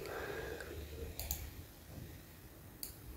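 Computer mouse clicking, two or three sharp, faint clicks spaced apart over a quiet room hum, with a low murmur of a voice early on.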